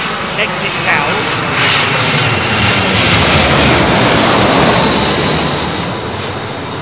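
Loud, steady, broadband roar of a jet airliner on arrival to London Heathrow runway 27L, swelling slightly and holding close overhead before easing off at the end.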